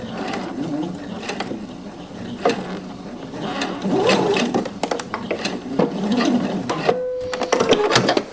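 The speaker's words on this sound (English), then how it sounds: "I'm going to take just a few stitches here" A sewing machine takes a short run of stitches while adding a lining to a garment, its fast mechanical whirr and needle clatter close and steady, with a brief pause and resume.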